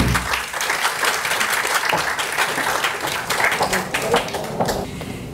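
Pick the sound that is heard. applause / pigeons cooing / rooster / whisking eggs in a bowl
applause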